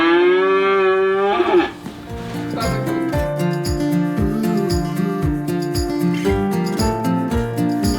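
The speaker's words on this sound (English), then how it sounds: "All right, cows are coming in the barn," Dairy cows moo loudly and close as they come into a barn, several long drawn-out calls at first, followed by rhythmic clanking and thumping barn noise.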